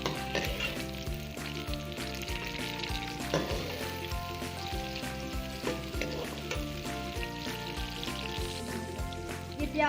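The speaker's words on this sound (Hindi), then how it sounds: "अब प्याज को जो है वो हम ब्राउन कर लेंगे।" Onions brown in a pan over a slow flame for aloo gosht, giving a soft continuous sizzle with occasional stirring. The frying is fairly quiet and runs under prominent background music the whole time.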